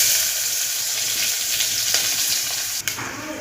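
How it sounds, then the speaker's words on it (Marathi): Cumin, curry leaves, mustard seeds and chopped onion hit hot tempering oil for misal pav, giving a loud, close, continuous sizzle with a sharp crackle burst near the end. "तर आता याला मी फोडणी देते. हे टाकते जिरे, कढीपत्ता, मोहरी"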